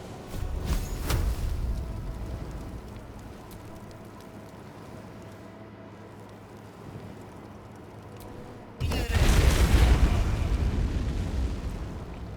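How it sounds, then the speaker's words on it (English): A Wall of Fire spell in Baldur's Gate 3 roars up as a sudden loud burst of rushing flame that sustains as a dense crackling blaze, after a quieter stretch of rumbling game ambience. "go ahead and throw up a wall of fire"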